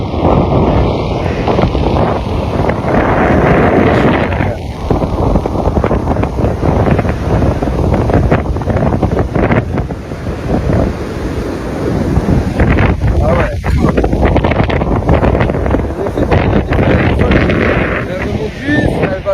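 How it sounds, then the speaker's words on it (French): Wind batters the microphone at the edge of a stormy sea, with rough waves surging onto the shore beneath a steady, loud roar; voices speak over it. "là on est au bord de la mer est déchaînée"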